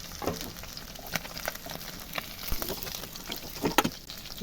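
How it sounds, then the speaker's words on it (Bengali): Khoyra fish fry in oil, sizzling steadily with scattered crackles and light clinks of utensils, a close, moderately quiet frying sound with no voices. "আমি অল্প অল্প করে ভেজে নিচ্ছি"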